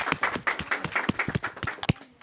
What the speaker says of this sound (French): On applaudit, il y a drip.